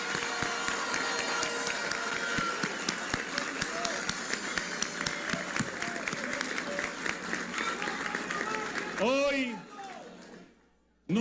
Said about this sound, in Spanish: que le demos un aplauso por la democracia de nuestro país